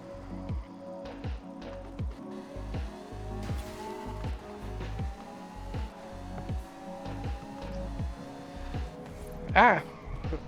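A 1990 Aston Martin Lagonda with all-wheel drive is driven in Forza Horizon 5, its engine note rising and falling through repeated gear changes with a brief tire squeal near the end, while a person talks over it.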